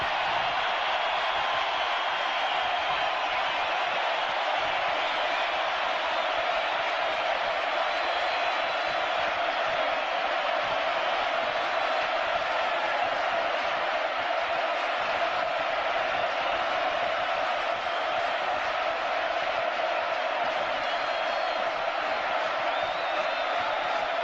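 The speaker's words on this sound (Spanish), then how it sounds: "este aplauso inolvidable de la Argentina a Charlie Watts y los Rolling Stones" A huge Argentine crowd applauds Charlie Watts and the Rolling Stones, a steady, dense roar of clapping and cheering that holds evenly throughout without pause.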